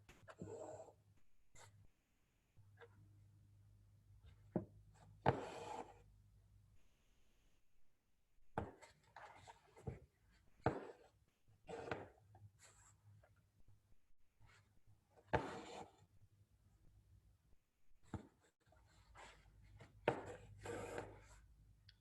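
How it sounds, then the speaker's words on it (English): A needle and thread drawn through thick embroidery canvas, giving intermittent rasping pulls and soft scratchy strokes, close and quiet, spaced irregularly over a faint low hum. "what's sounding right now is just it's the sound of my canvas"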